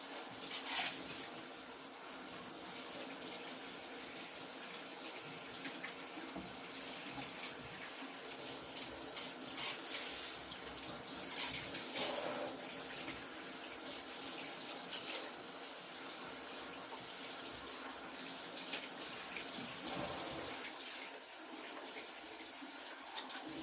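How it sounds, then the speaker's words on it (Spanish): Plenty of running tap water streams steadily while hair is rinsed clear of foam and product, a continuous splashing hiss with small shifts in flow, lasting over twenty seconds without talk. "procedemos a enjuagar con abundante agua, hasta que no quede absolutamente nada de espuma ni de producto visible"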